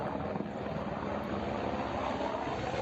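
Attack helicopters flying over during a Russian assault on Ukrainian cities, one behind another, a steady broadband rotor and engine roar filling the whole stretch without voices.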